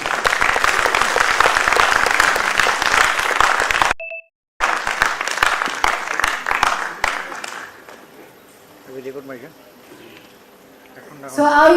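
Loud applause from an audience at a foundation day award ceremony, dense and steady for about four seconds, a brief dropout, then more clapping fading into quieter crowd murmur and a voice.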